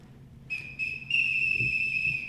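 A shrill whistle blown during a wrestling ring introduction, sounding in three bursts: two short blasts and then one long sustained tone over low crowd murmur.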